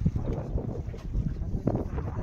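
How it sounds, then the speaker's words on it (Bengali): A fishing boat engine runs on the Matla river in strong stormy wind and waves, a low continuous rumble mixed with gusty wind buffeting the microphone. "এত ঝড়ো হাওয়া হচ্ছে আর ঢেউ হচ্ছে, তার জন্য মাঝে মাঝে ইঞ্জিন চালাতে হচ্ছে।"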